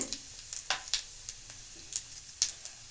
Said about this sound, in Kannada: ಒಂದು ಸ್ಪೂನು ಮೆಣಸು ಇದ್ದೀನಿ ಸ್ವಲ್ಪ ಹಿಂಗೆ ಇವಾಗಲೇ ಸೇರಿಸ್ಬಿಡೋಣ ಇವಾಗೆಲ್ಲ ಸಿಡಿದಿದೆ